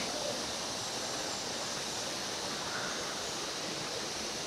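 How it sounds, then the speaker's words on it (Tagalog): Rushing water at Tatiao Falls in Silang, Cavite, a dense, steady broadband roar of cascading water over rocks, loud and unbroken with no voices. "Ganda ng nagasgas ng tubig."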